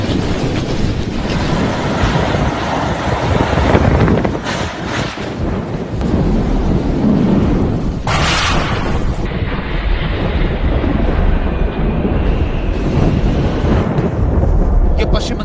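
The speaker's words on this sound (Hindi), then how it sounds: "ये शोर है उम्पुन तूफान का, जिसने आज पश्चिम बंगाल और ओडिशा को हिला दिया।" Cyclone Amphan lashes West Bengal with a loud, continuous roar of wind and heavy rain, thunder rumbling through it and a few sharper crashes standing out.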